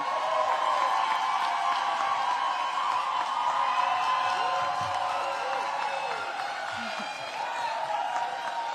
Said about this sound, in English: Let's please applaud Ms. Paris Wilton for coming back to serve our city.